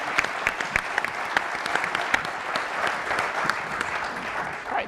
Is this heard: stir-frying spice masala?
no